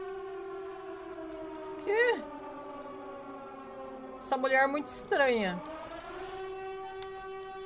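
A steady droning video-game siren wails continuously throughout, while a voice speaks over it in short bursts.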